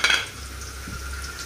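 Garlic and chicken fry in a hot pan with a brief clatter of stirring at the start, then an even, close sizzle holds for the rest of the short moment.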